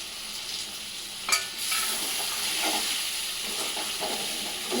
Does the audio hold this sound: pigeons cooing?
no